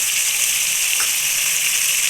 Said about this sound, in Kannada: ಎಲ್ಲ ಹಾಕ್ಕೊಂಡು ಚೆನ್ನಾಗಿ ಫ್ರೈ ಮಾಡ್ತೀವಿ